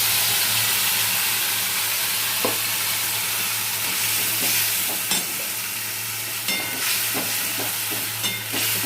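Spice paste sizzles and fries with potatoes in a pan while a utensil stirs and scrapes through it, a steady close hiss under irregular clinks and scrapes, with no talking.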